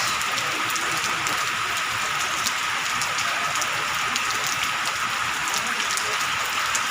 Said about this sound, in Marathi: पत्र्यावरती पाऊस पडला त्याचा आवाज